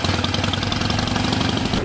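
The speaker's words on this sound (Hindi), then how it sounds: "इनके पास जनाब हार्ले डेविडसन बाइक है जो कि 900 सीसी है।" A Harley-Davidson 900cc motorcycle engine idles close by, a loud, steady low rumble with an even, lumpy pulse throughout and no talk over it.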